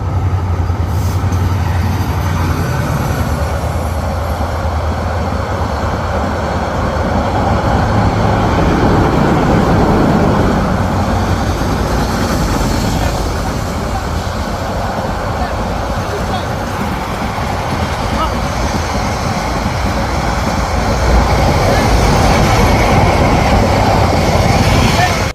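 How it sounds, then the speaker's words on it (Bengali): The Sonar Bangla Express, running from Chittagong toward Dhaka, passes close by with a loud, continuous rumble and clatter of rail wagons that lasts throughout, with voices talking over it. "অবশেষে আমরা ট্রেন দেখলাম।"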